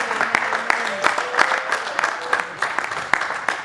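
A church congregation at a Sunday celebration service claps in a loose, uneven burst of applause with sharp distinct hand claps, some cheering voices mixed in.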